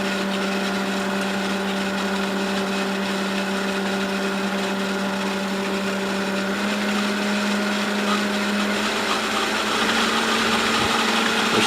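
A pump runs at 1350 rpm with a smooth, steady mechanical drone and a constant whine, loud and unbroken throughout.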